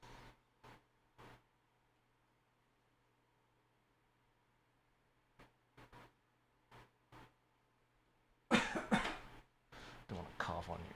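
Several brief, quiet coughs come close to the mic during a hands-on computer build, followed by louder talk and movement.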